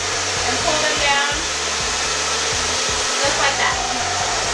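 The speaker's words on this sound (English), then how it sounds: "I stick it in there, put the blow dryer right here, and pull them down" A blow dryer roars steadily at close range while drying long hair over a round brush, its airflow pitch wavering slightly as the brush moves through the hair.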